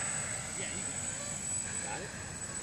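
A GWS radio-controlled model airplane drones steadily overhead in flight on its maiden outing, a continuous engine hum under nearby voices.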